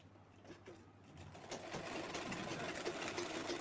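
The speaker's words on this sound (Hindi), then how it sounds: "जिप अटैच कर देंगे। अच्छे से जिप अटैच हुआ तो बैक का शेप अच्छा आ जाएगा। देखो इस तरह से सिलाई लगा देंगे।" A sewing machine stitches a zipper onto a handbag. Its faint, continuous motor whirr and rapid needle chatter build slightly in strength over a few seconds.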